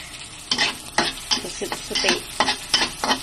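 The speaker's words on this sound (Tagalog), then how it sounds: "Saute lang natin yung garlic at saka yung ginger." Garlic and ginger sauté in a hot pan, each stroke of the spatula stirring up a crisp burst of sizzling in a steady rhythm of about eight scrapes, close and clear without talk.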